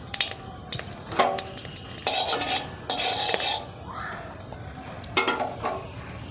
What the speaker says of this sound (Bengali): তেলটা গরম হয়ে গেছে, এইবারে গোটা জিরে ফোড়ন দেব।